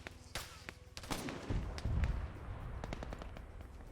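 A 50 cal machine gun fires in a video game in sharp, separate bursts, with heavier booms near the middle, all under quiet play chatter.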